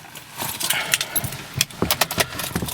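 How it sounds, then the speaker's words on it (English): Car keys for a 2010 Chevrolet Camaro jangle and clink close by in a few quick bursts of metallic rattling, with no voices. "Let me get my keys."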